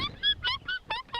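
A human voice imitating a cage of baby birds begging for food, about six quick, high, squeaky cheeps in an uneven burst, close and clear.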